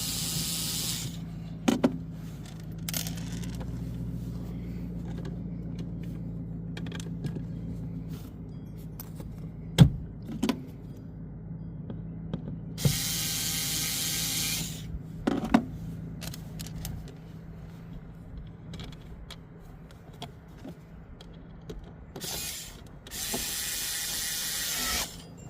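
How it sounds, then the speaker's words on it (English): A screw gun drives screws into a kicker speaker panel inside a van, with bursts of whirring and ratcheting mechanical noise between quiet stretches of clicks and handling, heard up close. "My wife would be proud using her screw gun again."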